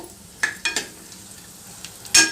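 Raisins fry in a pan for gram-flour (besan) laddu, a soft sizzle broken by a few sharp scraping stirs and one louder clatter of the spoon near the end.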